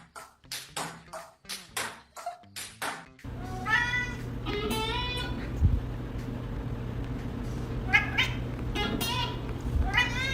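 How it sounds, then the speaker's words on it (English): A pet cat meows repeatedly in short, insistent cries, crying to be picked up and held; the first few seconds hold a rapid series of distinct meows, then the cries continue over a steady background hum with occasional louder calls. "Does anyone else's cat cry till they get picked up and held like a baby"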